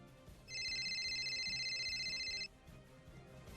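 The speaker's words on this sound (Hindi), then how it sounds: "तभी मेरे फोन पर गुप्ता जी की कॉल आई" A phone ringtone chimes in a repeating electronic pattern for about two seconds, then cuts off, with quiet background sound around it.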